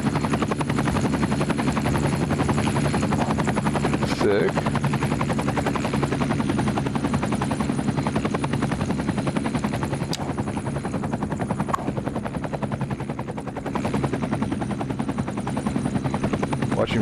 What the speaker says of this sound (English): Our helicopter's taking care of it.